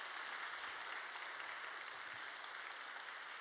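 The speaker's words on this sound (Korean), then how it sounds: "우리 박수하겠습니다." Church congregation gathered for a Sunday service applauds, a soft, even patter of many hands clapping steadily at a distance with no voices over it.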